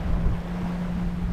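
A sailboat glides through calm water at dusk in light wind, a continuous low wash and rush of water along the hull with a steady low hum and some wind buffeting, and no talking.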